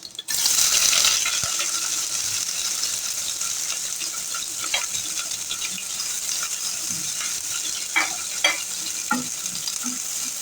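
Onions and whole garam masala frying in a pan for a dhaba-style urad dal tadka, a steady loud hiss of sizzling oil with a few light clinks and scrapes, no talking.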